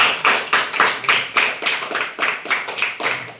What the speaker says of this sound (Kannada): ಚಪ್ಪಾಳೆ ಕೊಡ್ಬೇಕು